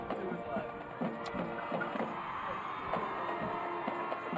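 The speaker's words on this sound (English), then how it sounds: "the Frontier crowd letting their seniors hear it" High school football crowd at Frontier High School cheering for its seniors, a distant, steady roar of voices and scattered whoops in a stadium, faint and continuous.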